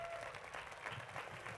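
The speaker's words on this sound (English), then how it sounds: "Let's have a round of applause" Applause for a graduating class at a high school graduation ceremony, a faint, distant, steady wash of many hands clapping with a murmur of crowd beneath.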